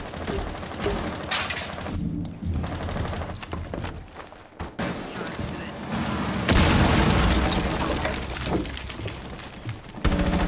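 Cluster charge explosions in a video game burst in a dense barrage of loud booms and crackling blasts, swelling heavily around the middle and again at the end, with game voice announcements mixed in.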